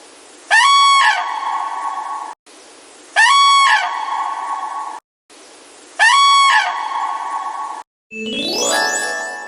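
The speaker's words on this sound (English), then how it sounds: "Crane." A crane gives three loud, honking bugle calls evenly spaced with short silences between, then a final shorter, wavering call, all alone with no talk.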